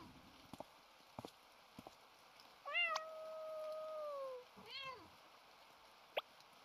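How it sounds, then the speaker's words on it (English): A cat in a murder mystery video game gives one long, drawn-out meow followed by a shorter second meow, clear and alone over a faint background hum, with a few soft clicks around it. "Why is that cat so long?"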